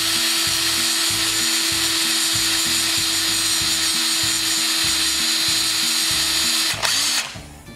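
Up close, a power drill bores through a broken bolt with a loud sustained whine and throbbing low chatter, then breaks through near the end and winds down quickly.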